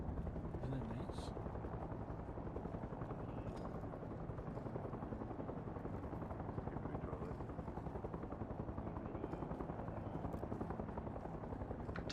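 Helicopter passing in a video game, a steady rotor drone holding throughout under constant game noise and talk.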